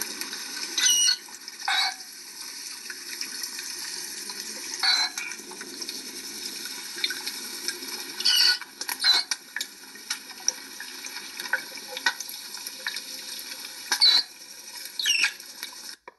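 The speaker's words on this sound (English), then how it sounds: "They communicate to one another by squeaking." Manatee mother and calf squeaking underwater in Crystal River, with several short high chirps and squeals scattered over a soft watery hiss, some close and clear, others faint, with no voices present.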